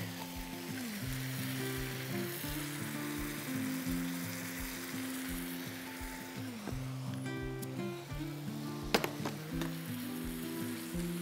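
Chicken with pineapple and ginger fries in a pan with a continuous close sizzle and occasional utensil scrapes. A steady, melodic background tune plays throughout.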